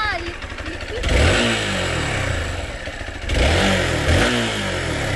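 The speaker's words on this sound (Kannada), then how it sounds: "ಲಿಕ್ವಿಡ್ ಕೂಲ್ ಇಂಜಿನ್ ಅದು." A Hero XPulse motorcycle with a liquid-cooled engine idles and then revs twice in loud, close bursts, the engine clattering between throttle blips while people talk nearby.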